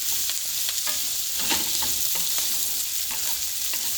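Vegetables stir-frying in a hot pan, a dense continuous sizzle broken by repeated scraping and tossing strokes at an irregular pace, close and loud with no voices.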